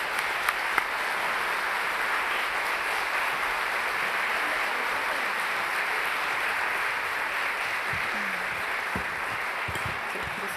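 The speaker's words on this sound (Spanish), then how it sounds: "Le damos un fuerte aplauso y la bienvenida a nuestra invitada Camila Vallejo." A studio audience at a Chilean political talk show claps steadily to welcome a guest, a dense sustained wash of applause that fills the whole stretch, with a few faint voices toward the end.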